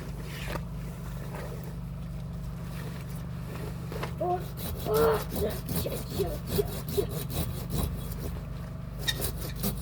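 Handsaw cutting through a pine tree outdoors, steady rasping strokes beginning about midway and continuing in a rhythmic back-and-forth under low background hum, with brief voices nearby.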